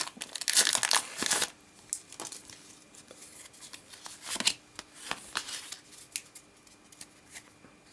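Foil wrapper of a Pokémon Black & White Legendary Treasures Genesect booster pack being torn open, close crinkling and ripping in bursts, loudest at the start and again midway, followed by softer rustles and card shuffling.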